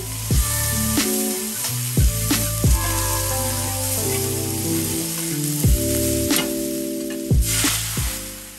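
Shallots and garlic sizzle in a frying pan for a monkfish dish, a steady close crackle broken by a few sharp knocks of utensils against the pan, with no talking.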